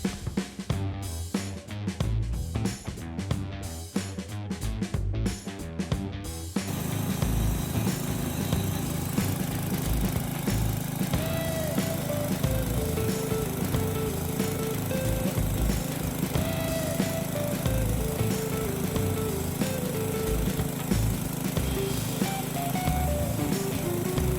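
A small homemade sawmill engine sputters at first, then settles into a loud, steady running drone that continues unbroken, nearby and alone.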